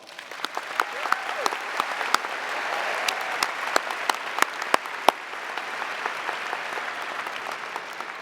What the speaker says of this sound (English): Let's take a moment to recognize and thank all of you with a round of applause